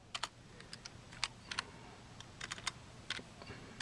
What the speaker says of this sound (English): I'm typing this with one hand